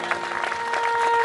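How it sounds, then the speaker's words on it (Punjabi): An audience claps at a religious jagran in a Punjab village, a brief burst of crowd applause heard close up, with a voice briefly audible at the same time. "ਇੱਕ ਵਾਰੀ ਮੈਂ ਚਾਹੁੰਦਾ ਕਿ ਬਜ਼ੁਰਗਾਂ ਦੇ ਨਾਂ ਦੇ ਉੱਤੇ ਤਾੜੀ ਹੋਣੀ ਚਾਹੀਦੀ ਹੈ"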